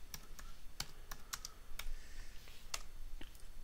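Someone types a folder name on a computer keyboard, a few close, sharp key clicks spaced irregularly over low room hiss, with no talking.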